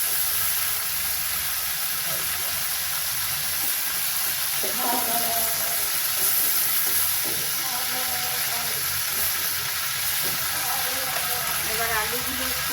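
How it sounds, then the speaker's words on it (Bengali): Potatoes frying in leftover hot oil after prawns, a steady broadband sizzle filling the whole stretch with faint stirring scrapes and a voice talking briefly underneath. "এবার আলুগুলো একটু ভেজে নেব ওই তেলেই"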